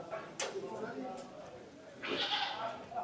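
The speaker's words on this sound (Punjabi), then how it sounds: "ਉਧਰ ਲੋਹੀ ਬੱਕਰੀ ਵੱਡੀ ਇਧਰ ਛੋਟੀ ਬੱਕਰੀ ਖੜੀ ਹੋ ਦੇਖ ਸਕਦੇ ਹੋ ਤੁਸੀਂ" Goats, large and small, bleat nearby, with one longer, louder bleat near the end, over a murmur of background voices and farmyard noise.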